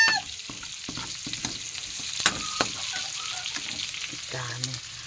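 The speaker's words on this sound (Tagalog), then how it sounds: "Kaya magpakasaya tayo sa paggisa ng kamatis." Tomatoes sautéed in a hot pan after the aromatics, giving a bright, steady sizzle broken by frequent stirring scrapes and taps, close and fairly loud, with no voices.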